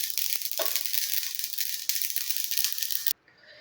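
Mustard seeds crackle and sizzle as they roast in a hot pan: a dense, steady hiss of fast popping that runs unbroken for about three seconds, then cuts off abruptly, leaving a faint low hiss.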